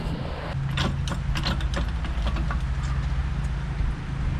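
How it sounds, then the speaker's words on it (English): A lever jack lifts a car at the rear wheel for a tire rotation, giving off close, irregular mechanical clicks and ratchet-like taps over a steady low rumble. "I'm just gonna use my lever jack"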